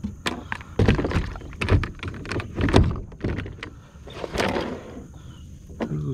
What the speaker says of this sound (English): And don't forget to put your rudder down.